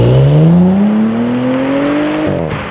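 A 2019 Audi S4 accelerates hard, its engine note climbing steadily in pitch for about two seconds. A sudden drop follows, like a gear change, and the revs begin rising again. It is loud and close with no talking.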